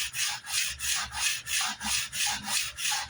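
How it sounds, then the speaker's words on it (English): Sandpaper on a sled slides back and forth along a track, sanding a vintage Gibson Les Paul Custom guitar; close, steady rhythmic rasping strokes about three per second, with no talking. "slide across the track and just let the tool do the work. Let the sandpaper do the work."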